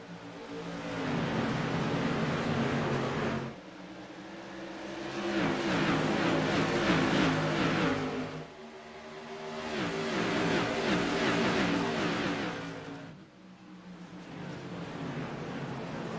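Race cars at New Hampshire Motor Speedway roar through a race start in a Short Track Thunder event, loud engine noise swelling and fading in long waves as the pack passes, with no talk.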